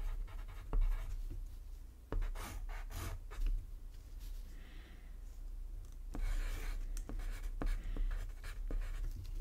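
A pencil or pen draws comic panels on paper, making close, quiet scratching and rubbing strokes in short irregular bursts with brief pauses between them.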